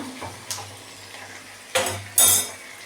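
Chillies are sautéed in a pan for chilli pickle: a few sharp metal clanks and scrapes of a spoon on the pan stand out over a low, steady hum, the last two louder and close.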